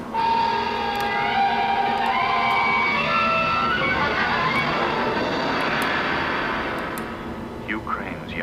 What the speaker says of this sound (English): Wait, there's an airplane coming, so hopefully you'll be able to hear it.